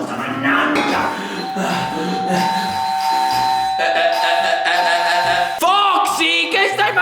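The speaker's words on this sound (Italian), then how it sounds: "Suonando al campanello" A doorbell rings in a video game with sustained chiming tones over busy game sounds and music, with a rising warble near the end.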